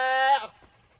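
A single goat moved to fresh pasture on a farm gives a short, harsh, nasal bleat, close and loud for about half a second, then fades into quiet outdoor background.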